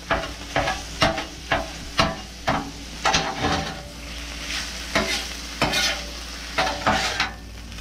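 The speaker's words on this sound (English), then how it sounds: "keep stirring the meat" Meat frying in a pan for rolled tacos, stirred with a spatula in regular scraping strokes roughly every half second over a continuous loud sizzle, close up with no talking.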